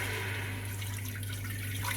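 Measured water is poured steadily into a pot of melting butter for ghee rice, a close, continuous gush over a low electrical hum, with no talking.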